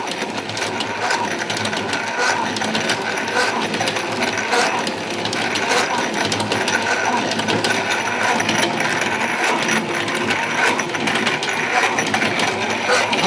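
A coil winding machine making coils for chargers runs nearby with a steady whirring hum broken by rapid rattling, ticking mechanical clicks throughout.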